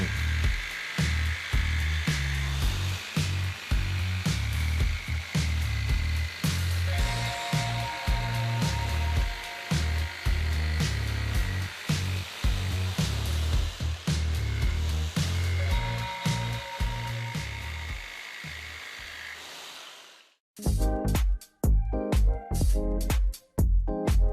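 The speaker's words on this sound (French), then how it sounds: "Évidez les trous à l'aide d'une scie sauteuse." A jigsaw buzzes continuously through wooden boards, its blade chattering in rapid pulses, then cuts out briefly before starting again in short bursts.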